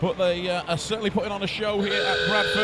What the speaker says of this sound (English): you can hear the hooter going in the background